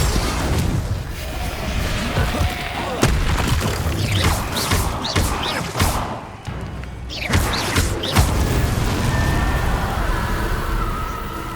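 Booming magical explosions and heavy thuds burst out repeatedly amid combat in the video game Hogwarts Legacy, several loud impacts spread irregularly over a continuous noisy background of battle.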